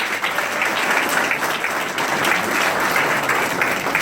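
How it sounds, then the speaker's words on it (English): Dense, steady applause from a council meeting audience fills the space evenly, loud and continuous throughout with no break. "Can everybody give her a round of applause?"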